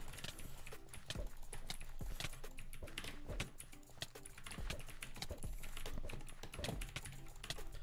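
Brand new computer keyboard clatters with rapid, uneven bursts of key presses during a Minecraft UHC match, quiet and close, with no talking.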